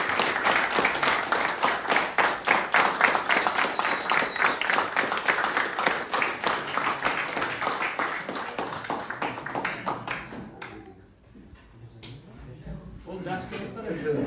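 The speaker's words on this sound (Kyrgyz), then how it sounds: "бир кол чабуулар" Applause from an audience at a prize draw, a dense sustained clapping that holds strong for about ten seconds, then thins out to scattered claps before picking up again.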